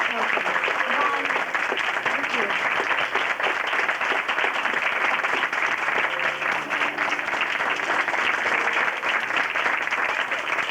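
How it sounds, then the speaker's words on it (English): Steady, dense audience applause at a junior gala, a continuous wash of clapping from many hands that holds at an even level throughout with no break. "I would like to, along with you, give Yvonne a round of applause for everything that she does for our children."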